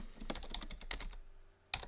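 Soft keystrokes on a computer keyboard as a file name is typed: a quick, quiet run of taps, a short pause, then one sharper final key press.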